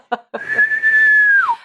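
A single person whistles one long, steady, fairly loud note. Two short breathy bursts come first, and the note slides downward at the end.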